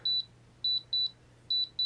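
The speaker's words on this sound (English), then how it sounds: "You hear the motor beep, let go of your trainer switch, and you're all bound up." Short electronic beeps from a helicopter's motor as an OrangeRX receiver binds to a DX6i transmitter, heard as three pairs of clear, even tones in quick repetition over a faint steady hum.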